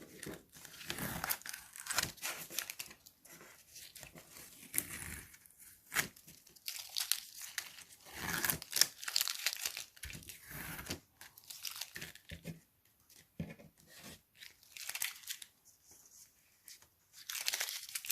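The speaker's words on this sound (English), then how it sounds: "Now just for the final reveal, we'll take the tape off." Tape peeled slowly off the edges of a small watercolour painting, a run of close crinkling, tearing strips with short pauses between pulls.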